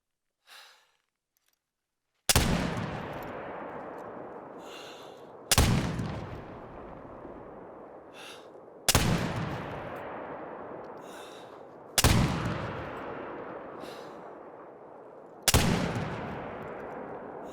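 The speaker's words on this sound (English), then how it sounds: "Let's see how it performs with a 300 meter shot." A Curman .50 Inline muzzleloader rifle fires in theHunter: Call of the Wild at a long-range target. Five loud booming reports about three seconds apart each trail off in a long rolling echo, after a brief faint noise at the start.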